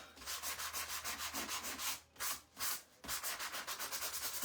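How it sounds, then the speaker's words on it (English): Sandpaper rubs back and forth over the top of a wooden picture frame in quick regular strokes, close and dry, with a couple of longer slower passes midway and no talking. "I'll probably just sand the top of it a little bit."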